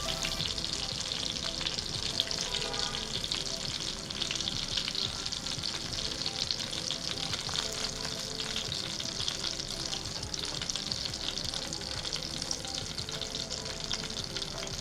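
Homemade chicken nuggets fry in hot oil with a dense, steady sizzle and crackle that holds unbroken for about fifteen seconds, with faint stirring beneath and no talking.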